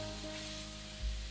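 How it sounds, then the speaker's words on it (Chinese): Crab stir-fried in a wok, a steady close sizzle of frying with a low hum underneath and a brief soft bump near the end, no voices. "等到螃蟹开始变色时，轻轻翻炒，把螃蟹炒出香味。"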